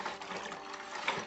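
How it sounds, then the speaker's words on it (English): Sugar being stirred into boiled water in a container, giving a steady, close wet swishing and sloshing that runs unbroken for about a second with a slight swell near the end. "And then give it a good stir to dissolve the sugar."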